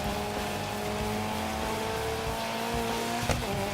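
A car accelerating on a bridge in the racing game Gravel, a loud, steady engine drone that holds throughout, with a brief tire squeal near the end.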